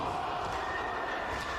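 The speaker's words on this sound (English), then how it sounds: "Look at the haka." A haka chanted at a world outrigger paddling championship in Hilo, heard as a dense, steady wall of massed voices and crowd noise filling the short moment, distant and unbroken.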